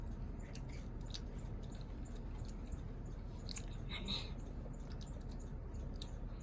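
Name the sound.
chewing chocolate kunafa while eating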